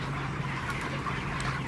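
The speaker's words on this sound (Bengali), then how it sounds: "মুরগি সব পাগল হয়ে গেছে খাবারের জন্য।" A crowd of chickens packed in a truck, excited for feed, make a dense, continuous clamor of overlapping clucks and squawks throughout a short burst, loud and close, with no talking.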